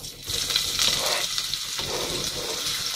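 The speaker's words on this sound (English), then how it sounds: "we're just going to add this onion" Diced onion drops into a hot pan for a potato curry and sizzles loudly and steadily, a close, dense hiss with a faint stirring rustle and no voices.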